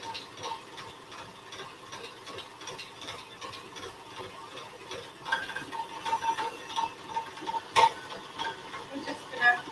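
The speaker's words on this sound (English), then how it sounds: "Give it a good stir." Christmas fruit cake mixture stirred in a bowl with a wooden spoon, soft rhythmic scraping and ticking clicks, quiet and close, growing a little louder in the second half.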